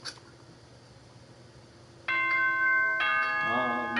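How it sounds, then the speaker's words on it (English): An electronic school announcement chime from the Danganronpa video game rings out in sustained, bell-like tones that start abruptly after a quiet stretch, followed by a second overlapping chime and the start of a voice. "Ding dong."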